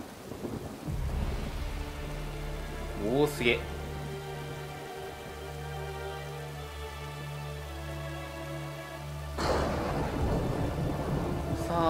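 Steady rain pours in a video game set in the Uncharted series, broken by two heavy rolls of thunder, and a voice briefly exclaims over the storm.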